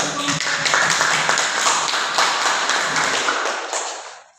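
Clapping from an audience at the end of a classroom presentation, a fairly steady patter that fades away near the close with no talk.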